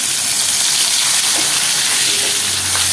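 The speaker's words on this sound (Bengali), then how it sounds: "দেখো, মাছগুলোকে ভাজা যাচ্ছে।" Fresh tilapia fish sizzle and crackle in hot oil, a steady loud frying hiss with no talking.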